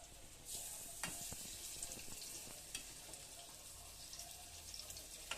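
Green gram vada batter fries in oil with a soft, steady bubbling sizzle, quiet and close, punctuated by a few faint clicks and taps.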